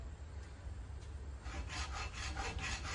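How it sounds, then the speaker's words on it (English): A hacksaw cuts through deer antler clamped in a vise, starting faint, then settling into steady rhythmic back-and-forth rasping strokes, close and quiet. "Make sure I have nothing in the direction of my hacksaw."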